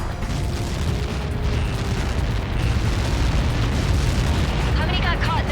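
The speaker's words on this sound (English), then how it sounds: "How many got caught in that explosion?" A massive explosion in the flight combat game Ace Combat 7 makes a dense, continuous rumbling roar that fills the whole stretch, with faint radio chatter underneath.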